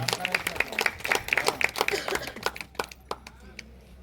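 Scattered hand clapping from an audience at a Buddhist community gathering, a quick burst of sharp claps that thins out toward the end, with a voice speaking over it.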